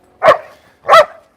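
A dog at a dog park gives two loud, sharp barks about half a second apart, each followed by a brief fading tail, with no talk over them.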